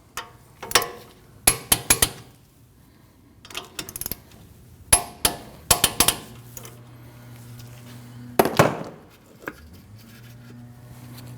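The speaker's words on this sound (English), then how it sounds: "Now you can torque both of your caliper bolts at 45 foot-pounds." Torque wrench tightening the front brake caliper bolts on a 2012-2021 Nissan NV2500, a run of sharp metallic clicks and clanks in separate bursts, close up, with a low mechanical hum in between.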